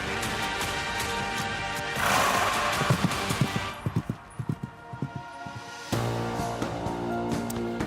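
Racehorses work out on a Breeders' Cup morning at Santa Anita. Hoofbeats thud through a busy outdoor broadcast mix at moderate distance, with a clustered run of hits in the middle. There is no clear talk over them.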